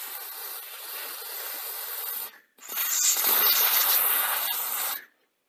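Short bursts of silicone lubricant sprayed from an aerosol can onto CD player gears laid on a cloth, a close hissing spray, then a brief pause and a second longer hiss that stops abruptly.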